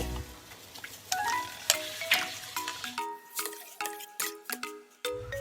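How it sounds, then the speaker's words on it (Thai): Marinated pork going into hot soup stock in a pan for pork noodles in gravy, with bubbling, gentle sizzling and stirring clinks of a utensil against the pan, close and moderately quiet, no talking. "ใส่น้ำซุปแล้วเดี๋ยวเราก็ ใส่หมูลงไปค่ะ ใส่หมูที่เราดองไว้"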